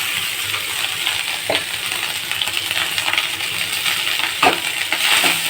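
Cooked rice tipped into a hot pan for egg pulao, a bright continuous frying hiss with scattered grainy rattles and scraping stirs, close and steady without speech.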